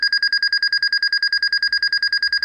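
A Kenwood NX3300 two-way radio sounds its man-down alarm: a loud, steady two-tone electronic beeping pulsing rapidly and evenly throughout, with no voices.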